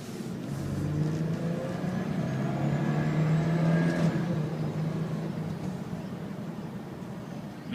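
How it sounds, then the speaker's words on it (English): Toyota 4Runner engine pulling hard under full acceleration, a steady loud drone with rising pitch through most of the stretch, heard from inside the cabin with no talking. "I'm going to go ahead and do a hard acceleration."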